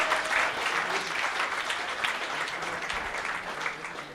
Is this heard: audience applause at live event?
yes